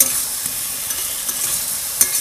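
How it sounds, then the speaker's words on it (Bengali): Spiced potatoes stirred and fried together in a pan, a continuous sizzle with scraping spoon strokes, close and fairly loud, no talking. "মশলা আলু একসঙ্গে কষিয়ে নিচ্ছি।"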